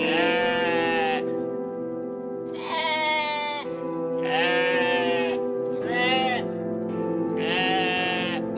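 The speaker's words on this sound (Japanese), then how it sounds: "何ああ、羊ちゃんか。 違う、ヤギだった。" Goat bleating in the video game OneShot, five long, wavering bleats in a row with short gaps, loud and close, with no talk over them.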